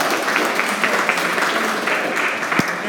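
Audience applause at a Chamber Connect networking evening, a steady wash of many hands clapping indoors at moderate loudness for the full three seconds, with no clear talk over it.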